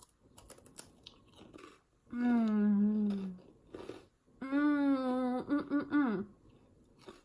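Crisp crunching bites and chewing, close up, broken by long appreciative humming sounds from the eater.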